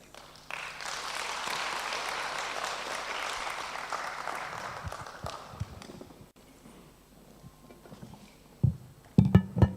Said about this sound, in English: Let us give Prof another round of applause.